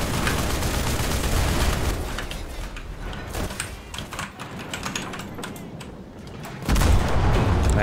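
Rapid .50 cal machine gun fire in a World War II tank game, loud bursts of clattering shots running almost continuously, easing briefly midway before a heavy, louder stretch at the end.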